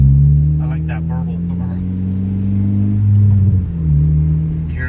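Burbling exhaust note of a 2013 Honda Civic Si coupe fitted with an Invidia N1 catback, a low steady drone while driving, with a brief swell near the end, under people talking in the cabin.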